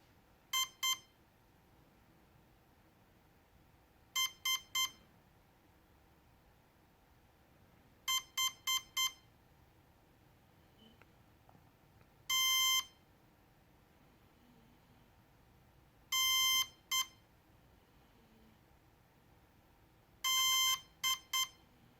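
Programming-mode beep tones from a Cheerson CX-20 drone transmitter: short bursts of three or four quick electronic beeps, repeating every few seconds against a quiet background.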